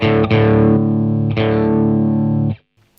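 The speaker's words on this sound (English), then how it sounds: "it's a Boss proprietary compressor" Sustained electric guitar chords through the Boss ME-90 compressor, with a smooth, evenly held compressed tone, struck twice and ringing out before cutting off.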